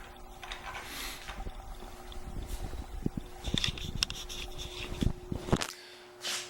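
A homemade 2x72 belt grinder, built as a combo with a 9-inch disc sander and driven through a four-step pulley, runs with a steady close motor hum and whirring belt noise, then abruptly cuts out near the end with no talking.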